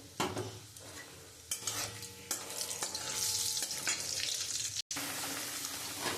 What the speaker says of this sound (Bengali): আমি শুকনো লঙ্কা, তেজপাতা আর গোটা জিরে আমি ফোড়ন দিয়ে দেবো।